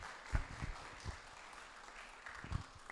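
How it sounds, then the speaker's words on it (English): Sparse, faint applause at a hackathon opening ceremony, with a few scattered claps standing out, fairly distant and thin. "give yourselves a round of applause for that"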